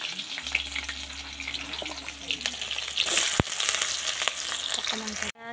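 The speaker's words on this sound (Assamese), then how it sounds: "তাৰপিছত জলকীয়াখিনিও দি লওঁ।" Green chillies drop into onions already frying in a kadai, giving a steady close sizzle with faint stirring and clinks and a brief sharp clatter partway through.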